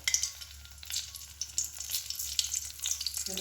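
Cumin seeds sizzle and crackle in hot oil in a wok, a close, bright, continuous frying hiss with scattered sharp pops and no talking.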